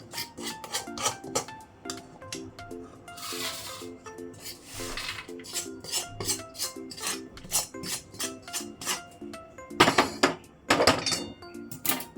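A spoon scrapes a green moong ladoo mixture from a pan onto a plate, giving repeated close scrapes and metallic clinks and knocks in an irregular rhythm, with louder clatters near the end.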